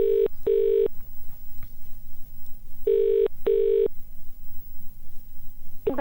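A telephone rings out on a call to a primary school, loud paired electronic ring bursts separated by pauses, repeating twice with the start of a third, with no talking over them.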